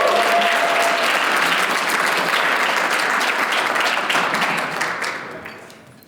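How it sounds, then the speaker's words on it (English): Audience at a law students' alumni banquet breaks into dense, sustained clapping that holds steady and loud, then fades out over the final second. "Please give us a round of applause."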